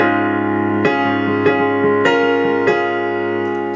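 Piano chords from a song struck one after another at a steady pace, each ringing out and overlapping the next, with the last one left to sustain.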